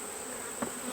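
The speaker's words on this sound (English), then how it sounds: "I'm fixing to get out of these bees and let them settle back down." Honey bees swarm around an open beehive in the evening, a loud, steady, close drone of many wings with a brief nearer buzz as one passes by.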